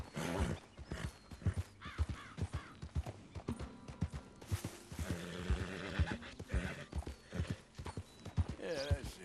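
A horse in Red Dead Redemption 2 whinnies and snorts as it grows spooked, with steady clip-clop hoofbeats and game ambience running throughout, and a voice talks over parts of it.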